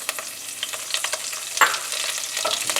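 Curry leaves and mustard seeds sputter and crackle in hot oil, a dense close sizzle with scattered sharp pops and one louder burst partway through, no voices.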